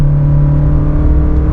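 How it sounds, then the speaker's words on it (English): Steady engine drone from a 2024 Toyota Corolla Cross Hybrid, a constant hum with strong low harmonics and little change in pitch, heard close up and alone. "If you don't like that engine sound, that could be a thing for you"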